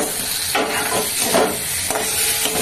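Boiled, peeled new potatoes tumble into a pan of hot spice paste, setting off a sizzling hiss with stirring scrapes and soft bumps. The sound is close and steady, with no voices.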